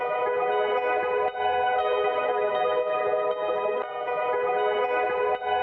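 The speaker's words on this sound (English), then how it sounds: "I wanted that compressor to start taking effect and it to have a more pumping effect." A sustained, heavily processed guitar chord rings out with rhythmic dips in level from a pumping compressor, the sound ducking and swelling in a pumping pattern.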